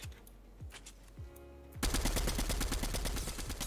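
Gunfire in Fortnite: a few scattered single shots, then a sudden loud, rapid burst of automatic fire that continues steadily to the end.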